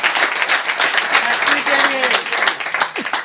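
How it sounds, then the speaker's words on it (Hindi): An audience claps in applause at a direct-selling seminar, a dense, steady patter of many hands that keeps going over the whole stretch, with a voice heard faintly underneath. "एक बार ताली बजा सकते हैं आप लोग इसके लिए"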